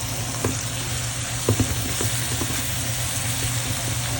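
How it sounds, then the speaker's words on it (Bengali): Potatoes stir-frying with bitter gourd in a pan, a steady low sizzle and hiss with a few soft stirring knocks, close and moderately loud. "এখন আপনারা এর মধ্যে আলুটা দিয়ে দিতে পারেন এইভাবে। এই দেখেন, দিয়ে এইভাবে নাড়তে থাকবেন।"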